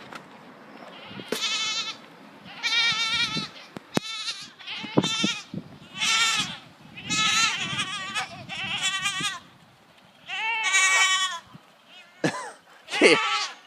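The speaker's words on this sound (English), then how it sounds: "Let's give the rest of these scraps to these goats." Goats fed melon scraps bleat loudly and repeatedly, close by, their wavering calls overlapping in nearly continuous bursts with a cough-like snort mixed in.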